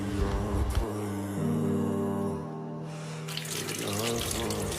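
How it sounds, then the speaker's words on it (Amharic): Tap water runs steadily into a sink during washing, a continuous close splashing rush that briefly changes in tone as the flow is interrupted and then resumes. "ውሃውን አታባክ ነው፣ ቀስ እያልክ ታጠብ።"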